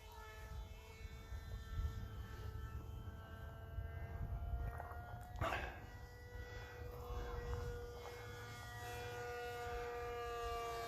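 Small Prime Jet RC plane motor running at about 40% throttle, a steady high-pitched whine with stacked harmonics that shifts slightly in pitch as it flies, continuous and fairly faint, with no talk.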